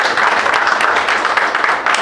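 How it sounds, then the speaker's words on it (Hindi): An audience claps together at a Constitution Day talk, a short steady wash of applause filling the hall. "थोड़ी जल्दी ताली बजाइए आप लोगों ने"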